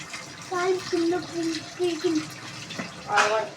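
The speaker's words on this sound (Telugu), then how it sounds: "రైస్ని అయితే కడుక్కుంటున్నాను" Rice is rinsed by hand in a pot of water in a home kitchen, with soft sloshing and trickling under a nearby voice talking throughout.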